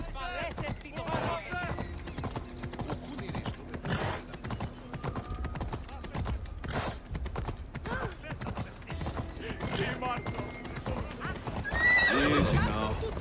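In the video game Assassin's Creed Odyssey, hooves clop in a steady rhythm while a horse whinnies near the start and again loudly near the end, with voices speaking at times.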